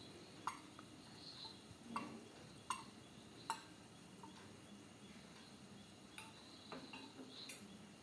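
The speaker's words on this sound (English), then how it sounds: "Once I add that, I will give it a good stir once more." Spoon scraping and clinking against a pot while stirring mutton curry with meat masala, a handful of sharp taps spaced irregularly over quiet background.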